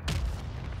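A mortar strike explodes in the Warzone 3 video game, a single deep boom near the start that rolls into a low rumble fading over under a second.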